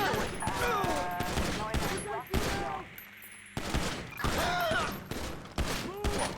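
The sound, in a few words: gunfire in a shootout with police, from a video game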